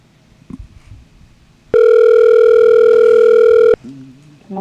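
Steady telephone tone on a studio call-in phone line for a morning show, sounding loud and unbroken for about two seconds between stretches of quieter background noise.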